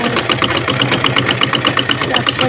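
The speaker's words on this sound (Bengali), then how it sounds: "কাঁধে চাপ সেলাই হবে এখন" Sewing machine running a shoulder seam on a women's shirt, a steady rapid mechanical rhythm of needle strokes, close and loud, with a voice talking over it.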